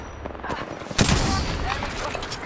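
Gunfire in an Apex Legends ranked match, a dense burst of shots starting sharply and rolling on as sustained loud firing amid game noise, with voices talking over it.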